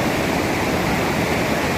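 Rushing river water at falls, waist-deep and gushing, fills the space as a loud, steady, close wash of broadband roar with no voices.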